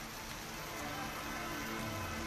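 Steady rain falling on a street in Maliganon, Guwahati, during a downpour, a dense continuous patter that holds at an even level for the whole short stretch with no voices.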